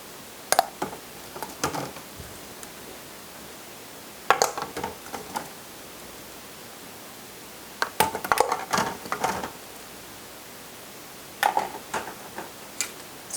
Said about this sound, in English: let's get these jars back into the Presto Digital Pressure Canner